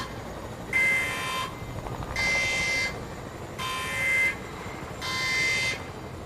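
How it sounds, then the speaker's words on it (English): Warning buzzer in a Fortnite tournament match, four evenly spaced harsh electronic blasts, each about a second long, sounding loud over a low background hum. "there's your fair warning buzzer"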